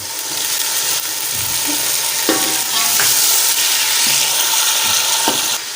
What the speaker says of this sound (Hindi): प्याज़ों और सारी चीज़ों को यकजान करने के लिए 1 कटोरी हम पानी डाल देंगे।